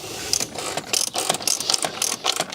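A hand ratchet tightens the oil filter housing cap on a BMW, producing quick bursts of sharp, close clicking pawl ratchets in short repeated strokes, with no voice.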